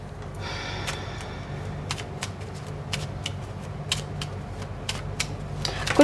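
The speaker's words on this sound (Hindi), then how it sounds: "so let me shuffle few more card आप लोगों के लिए" Tarot cards riffled and shuffled by hand in a quiet room, a long run of crisp papery flutters broken by sharp snaps and taps, close and steady with no talking.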